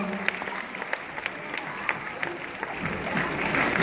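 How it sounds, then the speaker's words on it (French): Audience applause welcoming a singer at the Miss Picardie 2015 pageant, steady crowd clapping that builds slightly toward the end, with a voice faintly over it. "vous pouvez l'applaudir bien fort s'il vous plaît"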